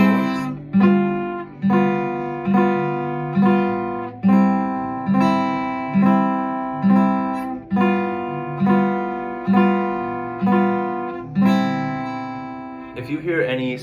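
Strummed chords on an acoustic guitar in a steady beginner exercise, four even strums per chord starting on C, cycling back and forth between two chords, clear and close with no talking.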